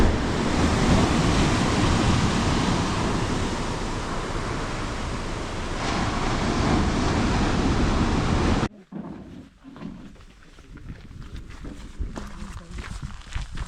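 Ocean surf on the New Zealand coast roars as broad, continuous wash mixed with wind buffeting the microphone, then drops sharply to quieter distant rumble with faint movement.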